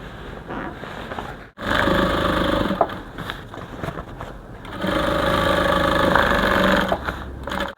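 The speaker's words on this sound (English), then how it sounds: "Then you take back to your machine, you sew here together." Sewing machine stitching a kimono dress seam, running in two sustained bursts of steady whirring with a short pause between, loud and close with no speech.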